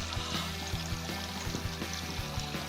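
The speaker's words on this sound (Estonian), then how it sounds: "Siin on jõgi." A shallow river flows across a road on the island of Saaremaa, giving a steady, continuous rush and trickle of water with no speech over it.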